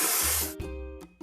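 A spray can hisses briefly while painting over discoloration in a cartoon truck-building game, giving about half a second of bright hiss before soft tonal game sounds take over.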